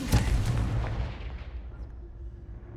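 Confringo blasting spell exploding in the Hogwarts Legacy video game, a single loud boom at the start that rolls off into a fading rumble and decay.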